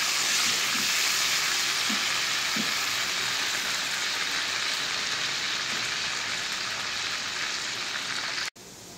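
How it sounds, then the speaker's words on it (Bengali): Potato pieces coated with salt and zarda food colouring fry in hot oil in a pan for chicken biryani, giving a steady, loud broadband sizzle throughout with a few soft stirring knocks and no talking. "এটাকে আমি লাল লাল করে ভেজে নেব।"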